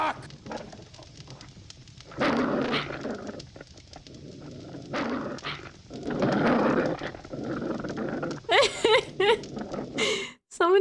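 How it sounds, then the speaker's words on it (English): Wolves growl and snarl in the Gabriel Knight 2: The Beast Within adventure game, rough bursts rising and falling over about ten seconds, fairly close and loud, with sharper yelps near the end. "So many growling wolves."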